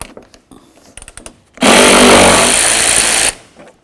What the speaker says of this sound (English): Using a 10mm socket, remove your 3 mounting bolts.